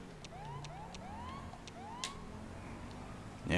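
A police siren in the video game GTA 5 wails in repeated rising sweeps at moderate distance, followed by a short sharp burst near the end.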